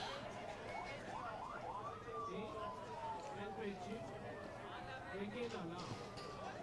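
Ambulance siren wailing at a crowded public rally in Yerevan, Armenia, its rising and falling tone moderately distant beneath the steady murmur and noise of the gathered crowd.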